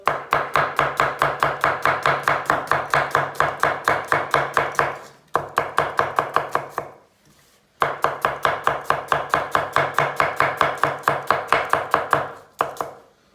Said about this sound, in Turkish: Soğanları fazla iri doğramıyorum ki yemeğin içinde e, fazla şey yapmasın, kaybolmasın.